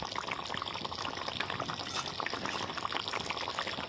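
A thin koi fish curry broth with taro simmers in a pot, giving a soft, steady bubbling and gentle liquid churning, fairly quiet and without talk.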